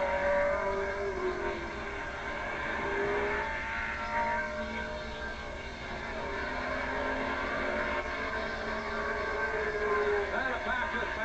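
A pack of race cars roars past at Bridgecity Speedway in 1986, a steady, dense engine drone that holds loud and even throughout with no clear single pass-by peak.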